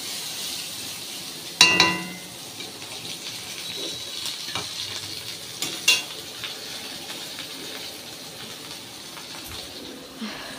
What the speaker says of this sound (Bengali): ডালটা ফোড়ন দেবো